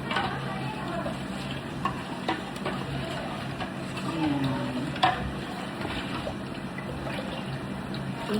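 Giro Miku powder being stirred into mango juice, soft liquid swishing and occasional light clinks of a utensil against the container, fairly quiet and continuous.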